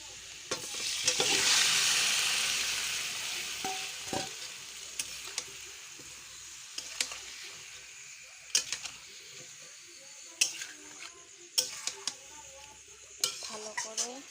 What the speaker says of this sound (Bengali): ভালো করে নাড়িয়ে নিতে হবে।